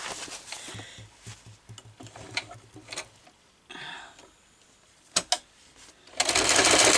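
A poorly oiled sewing machine runs in short clattering bursts with rapid mechanical ticking, stopping and starting, ending in a louder, rougher whir.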